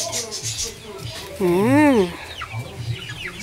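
Chickens in a farmyard, with one loud clucking cry in the middle and fainter cheeps and clucks around it, close by.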